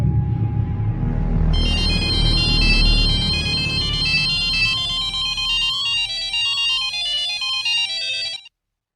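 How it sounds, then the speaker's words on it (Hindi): A phone ringtone plays loudly and continuously as a repeating electronic melody, ringing for about eight seconds over a low background rumble before cutting off abruptly. "तब से फोन लगा रहा हूँ, तो फोन ही नहीं उठा रही।"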